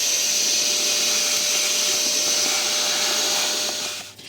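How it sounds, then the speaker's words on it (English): A vacuum cleaner sucks debris out of the airbox of an Audi S4 B6 with the 4.2 V8, a loud, steady whine running close and alone, then cutting off at the end. "give that a quick vac out before you fit your new filter"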